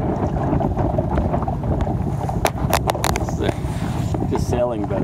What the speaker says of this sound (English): It's a little windier though than it was earlier.